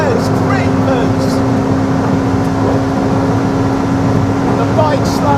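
A Ducati 1199 Superleggera superbike and a McLaren P1 hypercar speed past on the road, a loud continuous engine and wind roar that stays steady and close throughout, with a voice exclaiming over it.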